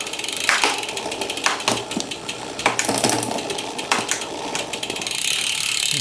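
Bicycle gear shifter clicking repeatedly as a rider tries to shift up and the chain won't reach the top gear, a close, rapid series of sharp mechanical ratchet clicks in irregular bursts over a steady background.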